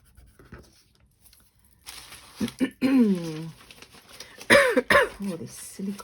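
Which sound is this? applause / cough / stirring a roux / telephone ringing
cough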